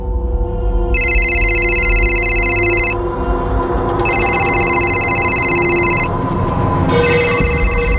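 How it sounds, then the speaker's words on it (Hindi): A telephone rings in repeated electronic trills, each lasting about two seconds with pauses between, over a steady low background rumble. "रिंग जा रही है, कोई पिक नहीं कर रहा है सर"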